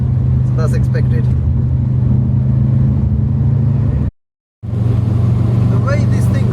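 Inside a Subaru Impreza WRX Classic sports car on the move, a loud steady low engine and road drone fills the cabin while people talk over it, cut by a brief total dropout before the drone resumes.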